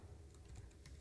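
A brief run of soft keystrokes on a computer keyboard while filling in an online form, faint and close with no talking.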